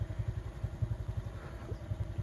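Rice harvester engine running while stuck in a muddy field, a steady low rhythmic chugging idle close by with no talk.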